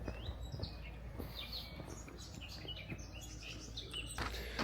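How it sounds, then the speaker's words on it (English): Many birds chirp and twitter together around old arched stone architecture in Portugal, a dense, steady chorus of small calls filling the background with a few brief louder chirps. "A lot of birds."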